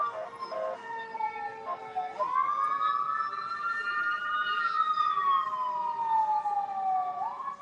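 A wailing siren slides up and down in pitch as it goes by at moderate distance, steady and unbroken against faint background noise.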